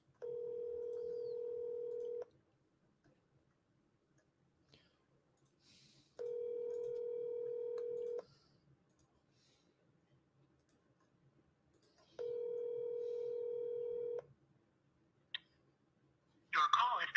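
A telephone call rings out through the handset, three long steady ringback tones spaced evenly about four seconds apart, faint but clear against near silence, followed by a brief burst of noise at the end.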